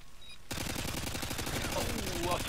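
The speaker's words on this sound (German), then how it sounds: "Aus der Scheune wird hart geschossen" Dense, rapid gunfire bursts in Modern Warfare 2 during a multiplayer match on Xbox 360, loud and continuous with overlapping shots close by.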